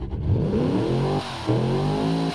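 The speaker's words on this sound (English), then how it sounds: "Going to give this engine a listen." A 179 kW engine in BeamNG revs up with a smooth rising whine, dips briefly, then climbs again in a loud, steady run with no talking.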